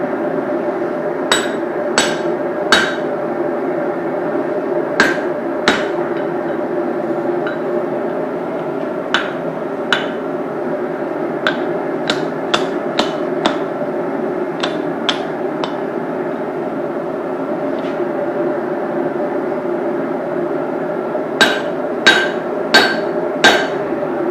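Hammer blows forging hot metal into a hammer head, sharp ringing strikes in irregular clusters and quick runs over a steady low roar of a forge, close and loud with no talk.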